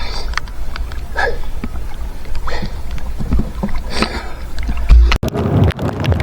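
A small boat rocks on choppy water in rain with wind buffeting the microphone, followed by a loud thump and splashing.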